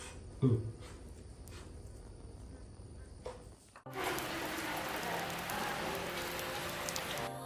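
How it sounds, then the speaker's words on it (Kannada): A dense, steady hiss of rain begins abruptly midway, after a quieter stretch with a brief voice and small knocks. "ಮಳೆ ಕೂಡ ಸ್ಟಾರ್ಟ್ ಆಯಿತು"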